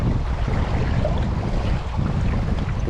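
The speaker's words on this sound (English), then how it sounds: "the wind is still here." Strong wind gusts past beside a limestone stream, a loud, continuous roaring rush buffeting close against the microphone with no voices.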